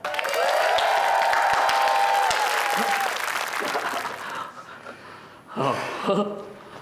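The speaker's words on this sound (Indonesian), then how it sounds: "Tepuk tangan." A studio audience on an Indonesian TV comedy show claps and cheers loudly over a sustained tone, then the applause thins and fades as voices and laughter break in near the end.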